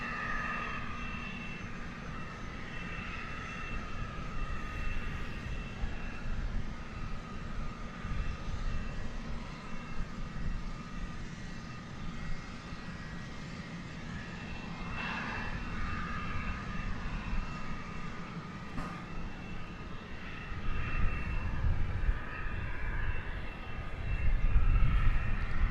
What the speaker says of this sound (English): we're not going to have to wait very long before this one rises into the sky once it starts rolling down runway 36 right